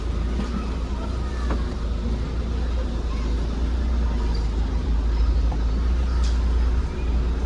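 Chevrolet Tavera being turned around, a steady low engine idle and rumble throughout with little change, no clear speech over it.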